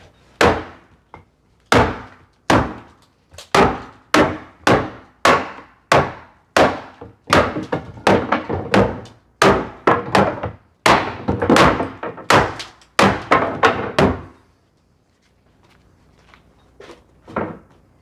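A hammer strikes old staircase timbers during a staircase removal, about twenty loud, sharp wooden thunks in a quick, uneven rhythm, close by and alone, ending in a short pause with a couple of faint knocks.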